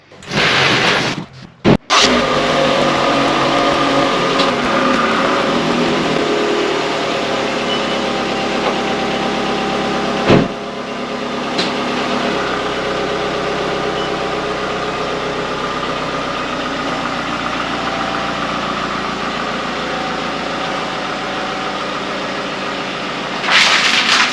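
A Toyota RAV4 engine cranks and starts, then settles into a steady close idle for the rest, with a couple of brief clunks partway through and no talk.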